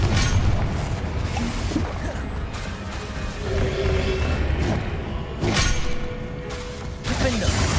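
A Confringo spell blast in Hogwarts Legacy gives a series of booming crashes and thuds through a continuous layer of in-game combat noise, with sharp impacts recurring every second or two.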